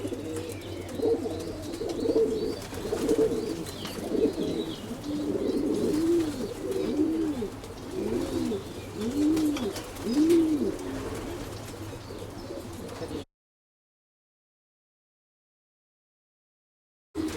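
Racing pigeons coo in repeated soft, rolling phrases at close range, several calls overlapping steadily over a low background hum, then the sound cuts to silence near the end.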